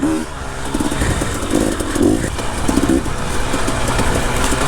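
An enduro motorcycle rides along a trail with a steady engine drone and rough rumbling, loud and close throughout, with no talking.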